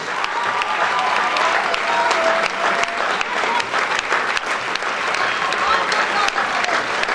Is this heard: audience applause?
yes